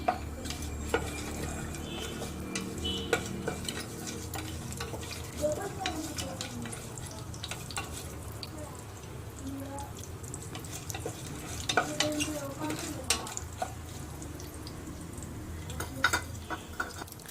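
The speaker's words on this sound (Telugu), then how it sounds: "బిర్యానీ మసాలా వేసుకున్న తర్వాత ఒకసారి కలుపుకోవాలి." A spoon stirs biryani masala with star anise, cloves, bay leaf, cardamom and cinnamon in a pan, steady scraping and soft sizzling with intermittent metallic clinks, close and continuous.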